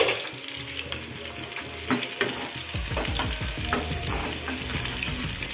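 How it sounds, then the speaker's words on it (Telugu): Onions frying in hot oil in a pan for garlic chicken fry, a loud continuous sizzle and crackle with stirring scrapes throughout, close and without talk. "ఆనియన్స్ వేసుకున్నాక కొంచెం కలర్ చేంజ్ అయ్యే వరకు ఫ్రై చేసుకోవాలి"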